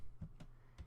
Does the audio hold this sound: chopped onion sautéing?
no